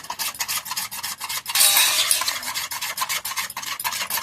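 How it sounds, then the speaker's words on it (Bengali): Semolina idli batter being beaten by hand in a bowl, a steady scraping, rubbing rhythm of quick repeated strokes with a louder, harsher burst in the middle, close and alone without talk. "ইডলিটা কিন্তু যতটা ফাটা হবে ততটা কিন্তু সুন্দর ফুলবে আর নরম হবে। যতটা পারবো সুন্দর করে ফেটে নেব আগে।"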